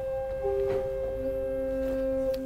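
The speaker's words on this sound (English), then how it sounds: "I forgot a 2-foot open flute" A 2-foot open flute stop on the Hinsz pipe organ in Kampen's Bovenkerk plays a few pure, whistly high notes, soft and steady, alone in the resonant church.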